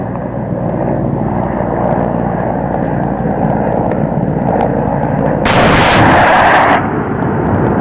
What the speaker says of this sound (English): Having acquired the target, the Mi-35 readies to fire.